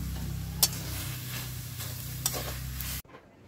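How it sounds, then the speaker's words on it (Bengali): Ground taro leaf paste frying in oil gives a steady sizzle with a couple of sharp stirring clicks, then cuts off abruptly into near silence. "এবার আমি তেলের পরে দিয়ে ভেজে নিচ্ছি।"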